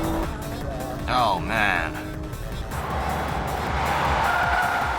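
Race cars, a Nissan GTR chasing a Mitsubishi Evo 7 and a Porsche, with engines roaring and tires squealing in a brief skid while a voice exclaims over the track noise.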